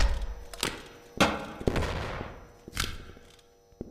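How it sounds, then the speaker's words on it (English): A bomb goes off in the VR game Animal Company, a short sharp blast followed by a noisy rumbling decay, with further thuds and bangs around it. "Yeah, that was my bomb."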